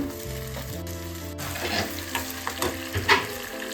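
Tomatoes frying in a pan give a steady sizzle close by, with a few clinks and stirring scrapes toward the end; nobody speaks.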